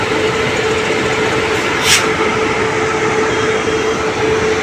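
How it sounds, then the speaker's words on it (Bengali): The Secunderabad–Howrah Falaknuma Express arrives at a station with a steady, loud rumble of rolling wheels and carriages, alongside a constant high whine and a brief hiss midway. "আর এটা ঢুকছে সেকেন্দ্রাবাদ হাওড়া ফলকনামা এক্সপ্রেস"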